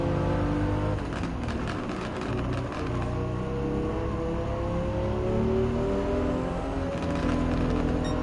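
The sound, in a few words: race car accelerating in video game Gran Turismo 7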